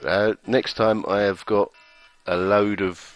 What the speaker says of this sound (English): That's my alarm clock telling me to wake up.